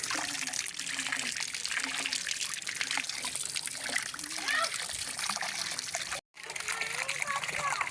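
Water trickles and flows steadily at a village stream, with a voice and other talk heard over the continuous wash of water, broken by a brief dropout near the end.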